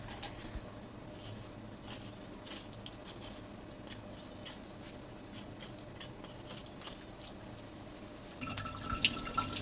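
Running tap water rinses a flathead fish fillet in a kitchen sink, a steady quiet trickle with soft splashes and drips, growing slightly louder near the end.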